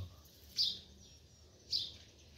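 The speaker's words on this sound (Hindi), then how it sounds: "वो सामने वो यहाँ की चिड़िया भी आ गई है, लोकल चिड़िया गुरसल जैसी" A local outdoor bird like a myna in Leh gives two clear, fairly faint calls about a second apart over quiet background.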